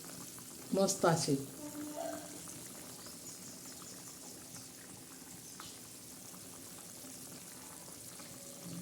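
A spicy egg curry bubbles and simmers in a pot, a soft continuous boil close by, with a voice briefly speaking near the start.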